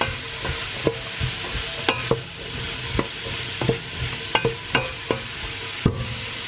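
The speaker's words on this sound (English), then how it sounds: "I will stir and fry for 10 minutes" Food stirred and fried in a pan, a steady sizzle under repeated sharp scrapes and clinks of the spoon against the pan at an uneven rhythm, close and fairly loud, no voices.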